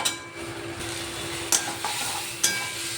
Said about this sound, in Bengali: ভেজে রাখা আলু পটলগুলো আমি আর একটু কষিয়ে